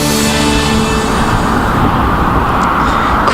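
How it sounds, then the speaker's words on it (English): Road traffic at night during a winter storm in Austin, Texas: a loud, continuous roar of cars passing close by, with a swell early on that settles into a steady rushing wash. "I can hear the traffic going on behind you"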